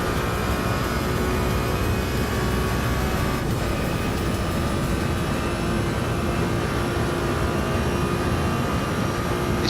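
Steady, continuous roar of a video game jet aircraft engine in Mickey's Flight Simulator, with a constant hum throughout, loud and sustained with no voices.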